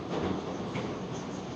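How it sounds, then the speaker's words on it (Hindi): A Saint Petersburg metro train rumbles steadily along the tracks with a continuous loud roar and faint wheel clatter, heard from inside the carriage with no voices. "सेंट पीटर्सबर्ग की मेट्रो की पहली सवारी"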